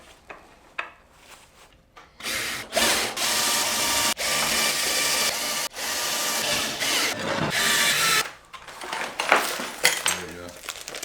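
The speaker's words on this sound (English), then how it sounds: "Oh shoot, I just dumped screws into this duct." Loose metal screws spill and clatter into a duct on a jet-powered electric skateboard build, a bright rattling cascade of small metallic hits lasting several seconds, with scattered clinks trailing off at the end.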